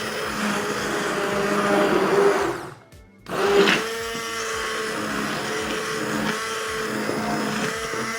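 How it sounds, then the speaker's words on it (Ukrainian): A blender chops spinach into batter, roaring steadily at close range, briefly stopping for a second before whirring back up and running on without pause. "Зараз я його проб'ю блендером."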